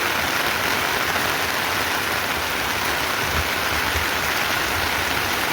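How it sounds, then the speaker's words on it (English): Heavy rain pours steadily on a rural homestead, a dense, loud, unbroken hiss with no pauses and no voices. "It rained again. It rained heavily."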